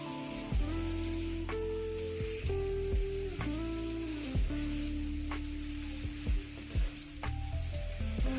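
Pangas fish pieces fry in a pan with spices, producing a strong, steady near sizzle with periodic scraping and turning sounds as the fish is flipped.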